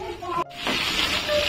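Pomfret fish fries in a pan after being flipped to brown its second side, giving a close, steady sizzling hiss that swells after a brief break, while someone talks over it.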